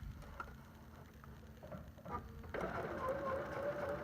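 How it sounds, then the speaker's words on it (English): Sewing machine starting to stitch on a small fabric scrap before piecing half-square triangles, quiet mechanical ticking that gives way to a steady whirring hum in the second half. "I'm just going to start sewing on this"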